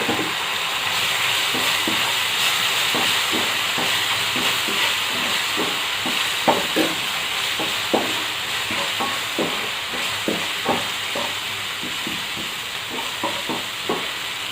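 Paneer fried rice base sizzles loudly in a pan as soy sauce and red chilli sauce are stirred in, with repeated scraping strokes of a spatula over a constant frying hiss.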